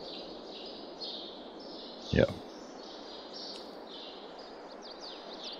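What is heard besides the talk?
birds chirping in a shed, video game map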